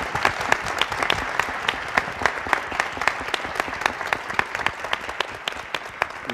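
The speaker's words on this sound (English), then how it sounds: "If we could give them a big round of applause." Steady applause from a faculty convocation audience, many hands clapping evenly at moderate volume, with no voices over it for the full stretch.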